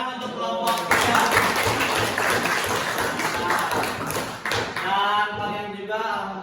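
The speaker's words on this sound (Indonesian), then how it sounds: "tepuk tangan untuk kelompok kita" A classroom of students clapping for a student group, a loud, fairly dense burst of applause with scattered thumps, running throughout and trailing off slightly near the end.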